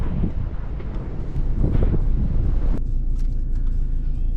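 Strong wind buffets the microphone outdoors near the seaside, a loud continuous roar with gusts that eases slightly after a few seconds; no talking.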